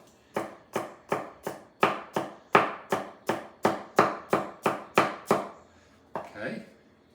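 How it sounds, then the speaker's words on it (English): Knife finely dicing halved celery on a cutting board, about fifteen crisp, evenly spaced chops close to the mic, followed by a short softer scrape at the end. "We'll dice up the celery. Actually, I'm going to split the celery in half, and now go with it. Very finely diced."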